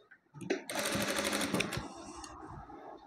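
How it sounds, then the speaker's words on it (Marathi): A sewing machine stitches along a folded half-inch strip of fabric in one close, steady run of rapid mechanical clatter, preceded by a couple of soft handling clicks and ending with a brief slowdown. "असं दुमडून ह्याच्यावर एक शिलाई मारून घ्यायची आहे"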